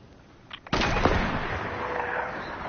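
A loud gunshot blast in a PS4 shooter game rings out with a long rolling echo, after a softer click and pop just before it.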